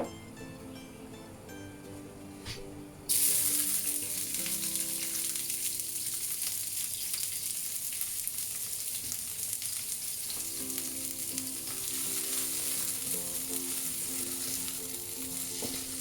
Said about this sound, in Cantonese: 燒紅隻鑊，擺啲油，我哋炒咗啲銀芽先，等佢去咗青味